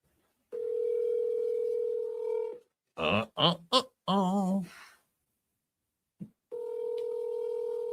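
A telephone call from a landline: a steady dial tone, a quick run of touch-tone dialing beeps and a warbling tone, then silence before the dial tone returns, all close and clear with no talking.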